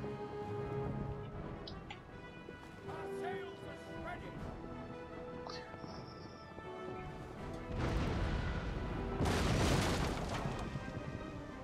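Cannons fire in the Empire Total War video game, with booming blasts and a heavy cluster of explosive impacts near the end over game music and background sound.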